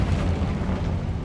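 An Incendio fire spell cast in Hogwarts Legacy: a brief, low rumbling whoosh of flame, steady and moderately loud, filling the moment alone without talk.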